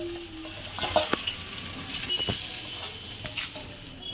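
Fish sizzle in hot mustard oil in a kadai, a close, steady frying hiss broken by a few sharp spatters and stirring clatters, with no talking.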